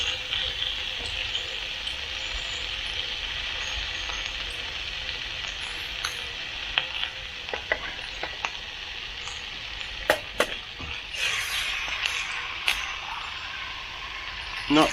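Bacon and egg frying in a pan on a Trangia camping stove, a steady loud sizzle throughout with occasional utensil scrapes and taps near the end.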